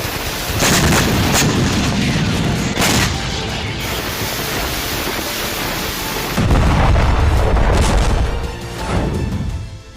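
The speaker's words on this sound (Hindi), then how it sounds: "27 स्कंदर मिसाइलों से विस्फोट किया तो 56 Kh-59 मिसाइलों से भी धावा बोला" Heavy booms and rumbling blasts from Russian missile and drone strikes on Ukrainian cities, several deep loud impacts with sustained roaring, one big blast near the middle, no talk.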